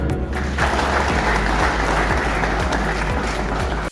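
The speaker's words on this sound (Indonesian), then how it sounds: "Tepuk tangan." A crowd at a food and drug safety education event in Denpasar applauds steadily and loudly for about four seconds, many hands clapping in a dense, continuous wash that cuts off abruptly at the end.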